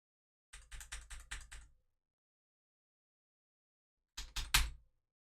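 Fast bursts of keystrokes on a malfunctioning computer keyboard, a rapid clicking run of about a second, a pause of silence, then another short cluster of clacks, close and crisp with no talking.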